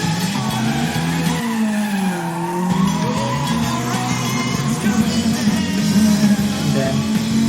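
Tires squeal and skid in a driving simulation as the brake is pressed, a continuous loud screech over the steady engine drone lasting several seconds.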